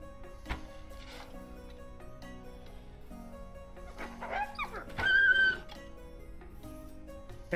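In the game Medieval Dynasty, a wolf yelps and whines in a brief cluster of high cries midway through, close and moderately loud above a quiet droning backdrop with scattered thumps.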